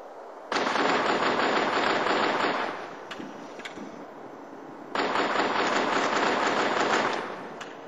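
Long bursts of rapid gunfire, loud and close, with a brief lull between two sustained volleys; reported as pistol shots.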